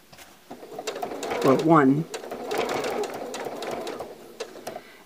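A sewing machine runs a short 1.2-length stitch with a quarter-inch foot, easing quilt binding around an inside corner. Its close mechanical whirr rises in a brief burst, then continues in a steadier run while someone talks over it.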